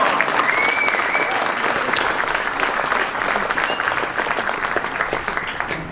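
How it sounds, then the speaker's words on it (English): An audience applauds a singer at a Veterans Day ceremony in Henderson, Nevada, with dense, steady clapping that holds at a loud level for the whole stretch and fades only slightly near the end. "Let's give her a round of applause."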